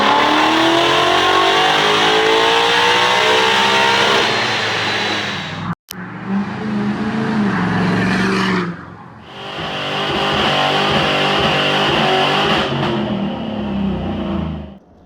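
A tuned, deleted 2017 Ford Super Duty diesel truck revs hard and close, engine pitch climbing and falling through repeated loud bursts, with tire squeal and skidding mixed in as it spins on snow.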